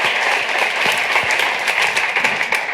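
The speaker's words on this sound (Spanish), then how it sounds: "y un aplauso os pido para..." Audience applause at a Spanish virtual reality conference, a steady dense wash of many hands clapping at once, sustained and loud throughout with no talk over it.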